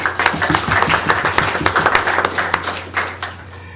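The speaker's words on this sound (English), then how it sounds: "Let's give her a round of applause." An audience at a school board meeting claps for a student science project winner, a short burst of close, brisk applause that fades toward the end.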